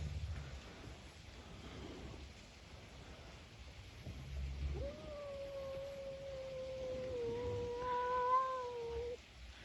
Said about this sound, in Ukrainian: Ви бачите, у нас з'явився ще і другий кіт. І зараз у нас ідуть розборки.